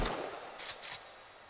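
Several shotgun blasts from the video game Sons of the Forest come in quick succession, short sharp bursts at moderate distance with no speech.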